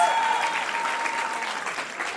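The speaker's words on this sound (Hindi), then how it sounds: "तालियां हो जाएं सबके लिए प्लीज" Steady audience applause fills the room, a dense wash of clapping at moderate volume that continues throughout.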